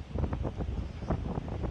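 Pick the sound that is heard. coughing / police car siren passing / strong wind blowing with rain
strong wind blowing with rain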